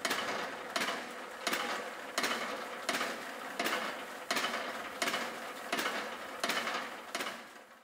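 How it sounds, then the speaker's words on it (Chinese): A sieve shaker machine shakes a stack of soil test sieves, giving a loud, regular rattling beat about every three quarters of a second. Each burst is metallic and fades quickly. "将组好之筛网放上摇筛机并启动，摇筛时间约5分钟。"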